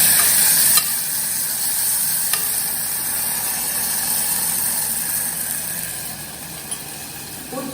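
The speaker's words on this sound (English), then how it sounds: "Just stir it." Whole spices like cinnamon and cloves sizzle in hot oil as they are stirred in a pan for okra kadhi, a continuous frying hiss with a couple of sharp spoon scrapes, fading slightly toward the end.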